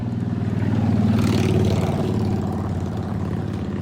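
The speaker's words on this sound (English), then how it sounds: "That was a motorcycle that guy probably drives 10 days a year that just rode by." A loud engine drone passes close by, swelling to a peak in the middle and easing off, a continuous rumbling tone from a motorcycle riding along a road, with no talk.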